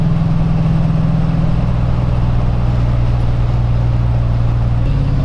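The General Lee car's engine cruising at freeway speed around 2400 RPM, a loud, continuous low drone with a steady pitch and a slight shift near the end, heard from inside the car.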